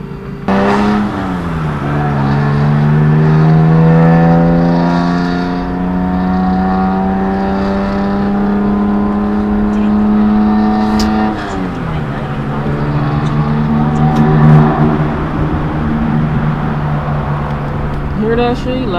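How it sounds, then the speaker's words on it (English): A car with a loud exhaust revs and pulls away at a Halloween trunk-or-treat car meet, its engine note rising in long sweeping climbs, dropping, then climbing again, with people talking nearby over the roar. "His exhaust is loud as shit."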